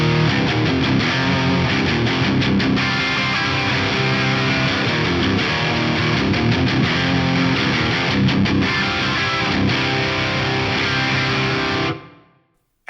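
Distorted electric guitar played through a modified Marshall-style amp with large tiled-room reverb, a loud, dense, gritty crunch chugging steadily for about twelve seconds before cutting off.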